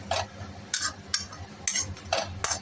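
Ajwain (carom seeds) roasting in homemade desi ghee, stirred with a spoon that scrapes and clinks against the pan in six or so sharp strokes over a soft crackle, with no voices.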